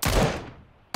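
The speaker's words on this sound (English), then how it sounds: "Oh, we trade shots there." A single loud gunshot exchanged in the battle royale game PUBG, a sharp close crack decaying over most of a second, followed by the onset of another shot.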